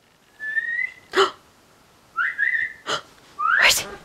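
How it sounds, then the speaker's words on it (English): A person whistles three separate rising, sweeping notes a short distance away, each followed by a sharp, brief noise burst, with no talking. "Just do a whistle."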